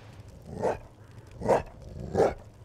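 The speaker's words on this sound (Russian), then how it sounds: "Кто там гавкает?" An undead dog in the Witching Tower VR game barks three times at a steady, spaced rhythm, each bark gruff and moderately loud over a low hum of background ambience, with no talking.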